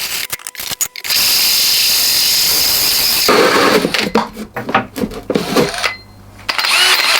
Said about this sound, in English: then we can drill a hole in, and then we've got that starting point